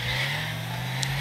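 A car in a video game drives along with a steady engine drone under road and wind noise, continuous and fairly loud, with a brief higher chirp near the end and no talking.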